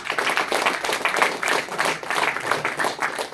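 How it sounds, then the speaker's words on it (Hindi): An audience claps together at a yoga session, steady close applause with rhythmic clap peaks throughout. "अभी तालियां तो आपने बजाई"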